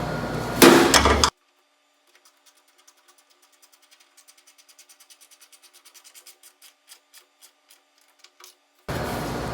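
A wrench tightens the hood bolts on a Fox Body Mustang in a run of faint, quickening ratchet clicks, framed by louder bursts of handling noise at the start and end.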